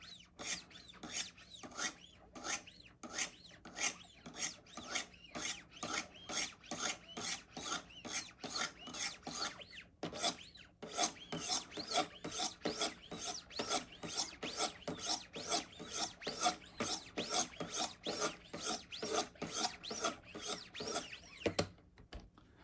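Benchmade knife being sharpened on a Wicked Edge guided system, a quick run of rhythmic rasping strokes in steady back-and-forth repetition, with one brief pause partway, fairly close and quiet.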